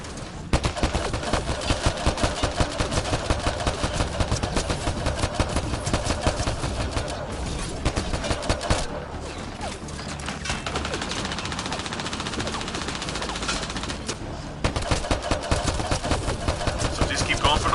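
Sustained rapid gunfire in the video game Mass Effect Andromeda on Insanity difficulty, a steady stream of loud shots with a brief lull in the middle before firing resumes, a player's voice mixed beneath.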